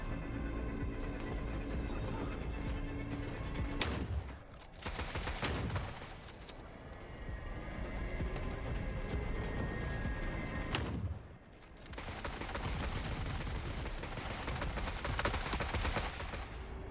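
Sustained bursts of automatic gunfire from the Forever Winter video game rattle almost continuously, loud and dense, with a couple of brief pauses between long volleys.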